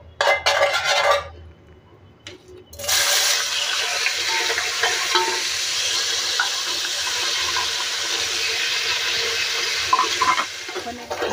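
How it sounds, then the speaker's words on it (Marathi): Paneer sautés in oil seasoned with a pinch of salt in a pan, a brief clatter giving way to a steady, close sizzling hiss that continues throughout. "आता आपण हे पनीर घेतलेत ना, ते आपल्याला ह्याच्यामध्ये परतून घ्यायचं"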